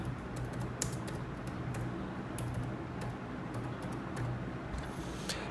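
Fingers type on a computer keyboard, a fast run of light, close clicks with brief pauses over a steady low background hum.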